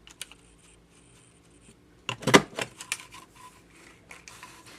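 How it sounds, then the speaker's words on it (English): A craft paper punch working around the edge of a card page: a quiet stretch of faint ticks, then a loud cluster of sharp mechanical clacks and crunches, followed by a few lighter clicks and rustles close by. "I wonder if I could punch around the page with it"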